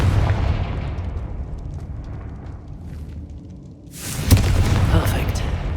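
Confringo fire-blast spell going off in Hogwarts Legacy, a fiery explosion burst; rumbling blast decays over several seconds, then a second loud bright burst erupts near the end.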